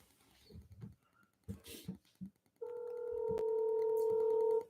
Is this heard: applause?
no